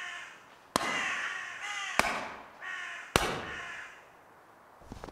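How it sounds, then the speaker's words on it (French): Three loud, harsh crow caws spaced about a second apart, each with a sharp onset and a ragged, throaty tail, then quiet. "Il aperçut une corneille"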